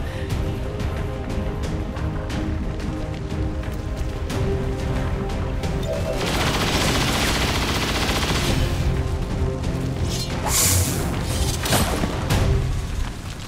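Gunfire in the video game XCOM 2: Long War 2, with repeated loud automatic bursts and sharp shots over a constant rumbling bed, swelling into a heavier barrage midway and ending with a few crisp cracking blasts.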